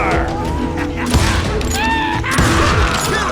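Gunfire in the Western shooter Call of Juarez: Gunslinger, set at Stinking Springs, New Mexico, with repeated shots and booms over a dense, loud battle din and voices shouting in the mix.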